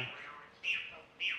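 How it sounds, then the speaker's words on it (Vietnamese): Small birds chirp in short bright tweets, two clear calls spaced about half a second apart, moderately close in a quiet outdoor setting with no talking. "nghe chim hót ngắm cây"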